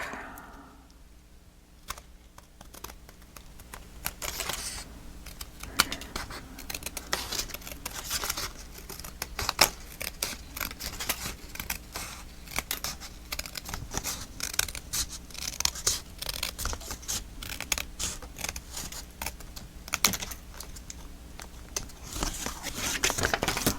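Scissors cut paper for a handmade photo album in a quiet room. Many crisp, close snips and rustles of paper repeat in an irregular rhythm throughout.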